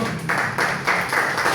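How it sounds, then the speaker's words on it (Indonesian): Audience applause at a government employee orientation seminar comes in a few quick swells of clapping, loud and close, with short pulses rising and dipping. "Berikan tepuk tangan semua."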